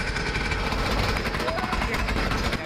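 A planishing hammer works a classic car's front panel, giving a loud, steady, continuous rapid pounding with a mechanical rattle throughout.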